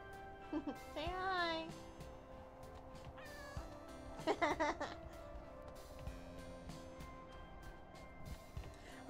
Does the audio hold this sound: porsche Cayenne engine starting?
no